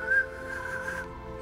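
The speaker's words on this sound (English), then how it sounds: "that would sound like a very faint whistle against the whoosh, the constant whoosh from your receivers" A simulated alien radio signal comes through as a faint, thin whistling tone riding over a constant receiver hiss, steady for about a second before fading out.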